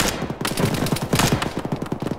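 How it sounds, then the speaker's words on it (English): Rapid automatic gunfire in the video game Arma 3 rattles in quick bursts, dense and loud, with sharp repeated cracks and no voices. "those musical gunshots again"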